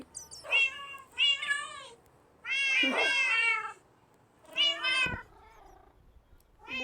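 A cat meows several times, drawn-out and plaintive, with short pauses between calls, close and clear against a quiet background.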